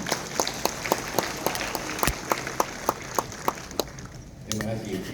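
An audience claps at a university anniversary and graduation ceremony at Universitas Jayabaya. The claps come as a steady, evenly spaced beat of sharp hits over a murmuring hall, then stop, and a voice begins at the very end.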